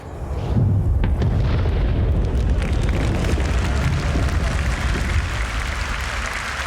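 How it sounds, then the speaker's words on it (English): An explosion in Star Citizen with a shockwave and a delayed sound arriving over distance: a sudden blast swells into a long, heavy rolling rumble that slowly fades. "So we can put a cinematic element, a shockwave element, and a delayed speed of sound effect."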